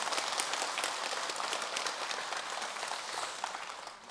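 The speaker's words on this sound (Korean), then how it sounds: "여러분 큰 격려의 박수 한번 보내주세요" Crowd at a Sunday dharma service at Jogyesa temple gives the temple choir a big round of applause, a dense, sustained roar of many clapping hands that stays full throughout before easing slightly.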